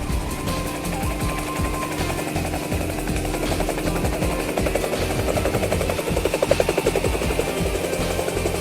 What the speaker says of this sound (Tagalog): Sa helicopter naman.